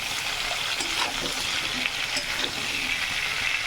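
Cauliflower and potato with cumin powder being stirred in hot oil for a fish curry, giving a steady close sizzle with faint scraping throughout, no voices.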